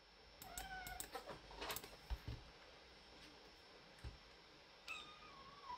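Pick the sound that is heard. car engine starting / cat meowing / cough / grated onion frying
cat meowing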